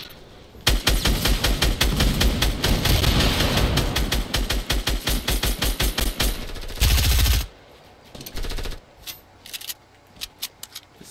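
Fast, loud submachine gun fire in Fortnite, several long rapid bursts of closely spaced shots running for seconds, followed by scattered single shots and clicks.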